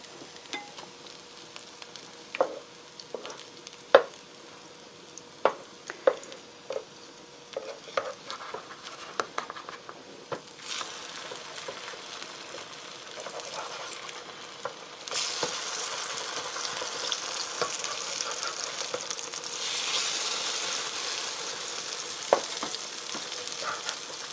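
Korean pancakes fry in a pan over low heat with a steady sizzle, broken by scattered clicks and scraping taps, the sizzling growing fuller and louder in the second half.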